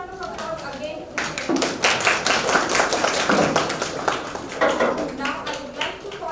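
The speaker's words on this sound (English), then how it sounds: "Can we give a big round of applause again?" An audience at a college engineering program breaks into applause after a short pause, brisk and fairly close clapping that stays strong for several seconds before thinning slightly.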